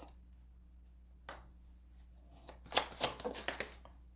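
Tarot cards shuffled once in a quick riffle, crisp bursts of flicking card edges building to a dense flurry near the end after a single earlier snap, close and fairly quiet against a faint steady hum.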